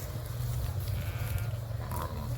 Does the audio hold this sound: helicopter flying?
no